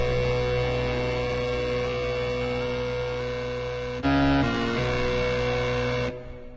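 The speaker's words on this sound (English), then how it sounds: "It gives it a little bit of nice distortion, nice deep harmonics." A distorted square wave synth bass built in Reason 7.1 drones as a steady, buzzing tone thick with deep harmonics, shifting pitch briefly partway through before cutting off abruptly.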